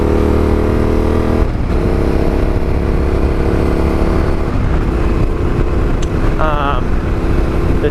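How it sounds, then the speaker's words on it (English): A Yamaha Tenere motorcycle engine drones steadily while riding, with a sharp throttle blip and shift in pitch as the rider kicks down a gear, and brief higher chirps near the end. "Blipping the throttle and kicking down a gear at the same time is ideal."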